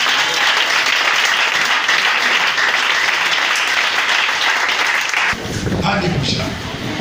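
A church congregation applauds and acclaims the Lord with steady, dense clapping that fills the room, continuing loud throughout with voices rising near the end.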